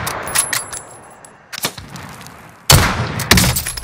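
Gunshots from a weapon in a video game: a few sharp cracks early, then heavier loud blasts near the end, close and punchy with game noise between.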